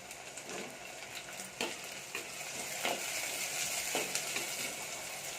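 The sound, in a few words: frying tomatoes and green chillies in a pan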